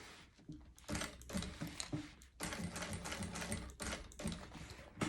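A sewing machine stitches an X pattern into a pet backpack, with close, rapid mechanical chattering bursts that start and stop in short runs separated by brief pauses.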